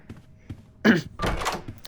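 A door bursts open in the Roblox horror game Doors, a sudden heavy thunk followed by a brief rushing scrape, loud and close over a quiet background.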